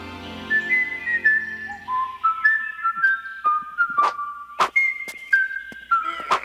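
Link from the 1989 Zelda cartoon whistles a tune, a clear melodic line of sliding notes stepping up and down, with sharp sword swishes and thunks cutting in over it.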